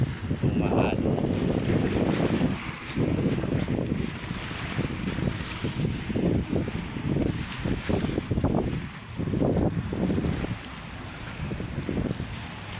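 Choppy waves slap and wash along the shore of Manila Bay, and strong wind buffets the microphone in steady, loud gusts throughout.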